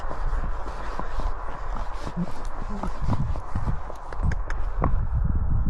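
Hooves of a ridden horse trotting outdoors on a ride out, a steady clip-clop rhythm close by that runs throughout, with a rider's voice talking over it and some background rumble.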